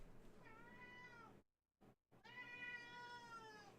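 A pet cat gives two drawn-out, whiny meows, close and clear, separated by a brief silent gap, with no talking over them.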